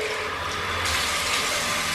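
Water runs steadily from a tap in a gym toilet washroom while face and hands are washed, a continuous close hiss that brightens partway through, with no talking.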